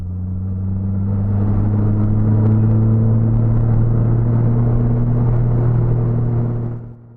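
A white 1964 Renault Dauphine Ondine idles with its rear-mounted engine running. The low rumbling hum is steady and close for several seconds, then cuts off sharply at the end.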